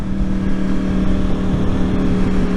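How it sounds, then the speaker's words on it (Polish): A Yamaha R1 RN22 motorcycle exhaust drones steadily while riding, a loud continuous engine hum with a strong low tone and rushing wind, no talk over it. "Bardzo ładnie chodzi wydech."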